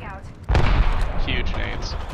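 Big grenade explosions in a first-person battle royale shooter firefight, a loud burst hitting at once and rumbling on with scattered crackling blasts, while players talk over it.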